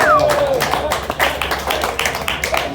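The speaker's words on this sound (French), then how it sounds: "On peut l'applaudir quand même." A bar crowd at a chili-pepper eating contest in a brewery claps in a brief, loud burst, with scattered hand claps and voices mixed in.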